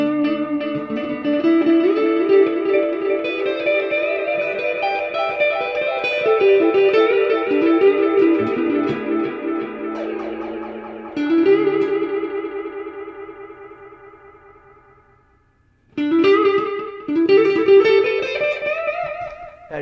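An electric guitar played through a Positive Grid Spark amp with a tape echo effect, sustained chords and picked notes trailing into repeating echoes, fading nearly to silence before a fresh burst of playing.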